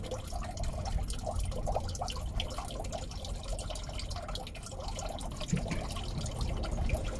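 Flush water pouring steadily out of a Toyota MR2 radiator, a continuous close splashing and trickling wash that runs unbroken with no talk.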